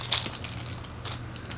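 Plastic keycaps from a Keychron K2 keyboard being handled up close, giving a few light clicks and rattles over a low steady hum.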